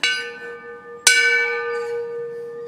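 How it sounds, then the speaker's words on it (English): Bell at the entrance of Distillery 209, a gin distillery in San Francisco, rung twice: a bright ringing tone sustains, then a second sharp strike at about one second renews it and lets it decay slowly, close and clear with no talk. "I'm gonna ring this bell and hopefully they'll let us inside."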